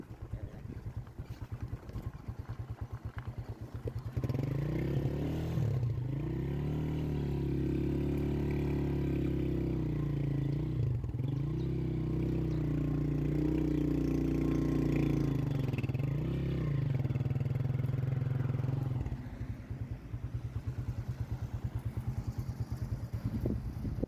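A motorcycle ridden through an upscale Kenyan suburb, its engine droning steadily up close with rises and falls in revs and some rattling.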